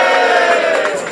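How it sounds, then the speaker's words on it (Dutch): Carnival audience at a Limburg Vastelaovend show cheering for a performer, a loud sustained roar of many voices with some clapping mixed in, steady for the whole moment. "Een applaus voor Big Ben!"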